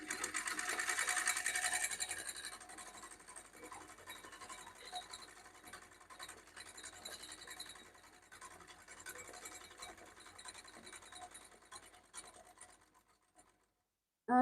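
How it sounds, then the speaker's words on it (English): A 3-thread overlocker runs steadily while serging along fabric, loudest in the first couple of seconds and then a continuous, slightly scratchy mechanical whir that fades and stops near the end, with no talking. "So I'm just going to run this part one more time so we could all see."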